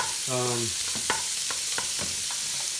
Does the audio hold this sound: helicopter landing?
no